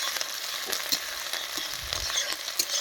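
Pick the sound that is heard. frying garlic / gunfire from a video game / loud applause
frying garlic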